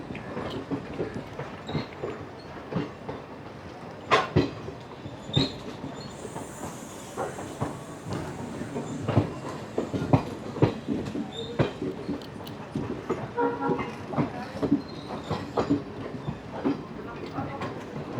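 Aboard the Gujarat Superfast Express in an AC chair car as it runs into Ahmedabad station, wheels beat a rhythmic clickety-clack over the rail joints with a steady rumble and occasional faint squeals.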